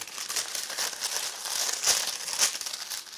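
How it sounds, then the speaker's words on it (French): Crisp parchment paper crinkling and rustling up close, steady handling with a few sharper crackles, no voices. "Je vais remettre mon papier."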